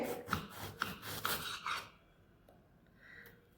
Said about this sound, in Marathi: ह्यात आपण पातळ कापायचे आहेत बघा कारली सगळी